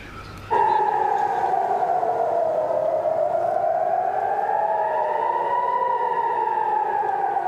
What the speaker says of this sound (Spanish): Es el sonido de las alarmas antiaéreas que se escucha sobre Tel Aviv.